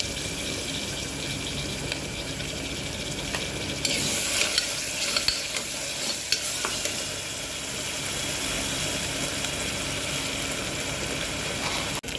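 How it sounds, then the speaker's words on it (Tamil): Onion and ginger garlic paste frying in a pan, a continuous close sizzle with stirring clatter and a brief burst of louder crackling partway through, no voices. "வெங்காயம் போட்டுக்கலாம். இஞ்சி பூண்டு பேஸ்ட் போட்டுக்கலாம்."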